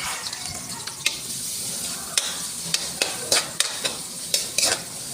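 Ginger sizzles and fries in a pan with onion, with steady crackling throughout and repeated sharp clinks and scrapes of a utensil stirring. The sound is close, with no talk over it.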